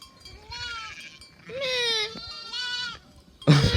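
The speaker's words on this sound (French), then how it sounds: "Les gars, regardez, il y a une chèvre et il y a ses bébés à côté." A mother goat and her young kids bleat on Majorca, several high, wavering calls one after another at close range, with faint background noise between them.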